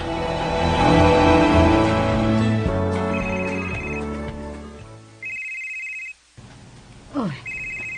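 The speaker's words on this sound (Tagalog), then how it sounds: "Bagting man ako cellphone." A mobile phone rings indoors with repeated electronic ringtone bursts, first under loud music and then more clearly on their own after the music stops, with some speech around it.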